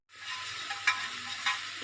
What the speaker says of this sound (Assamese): এইখিনি এতিয়া ভাজি ল'ম।